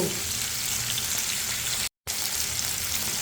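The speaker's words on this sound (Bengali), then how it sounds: "আমার মাছগুলো উল্টে দেওয়া হয়ে গিয়েছে আমি অপর পিঠ ভেজে নেব" Pieces of Colombo fish frying in hot oil in a pan after being flipped, a loud, dense, continuous crackling sizzle close by, cut off by a brief silent gap before resuming.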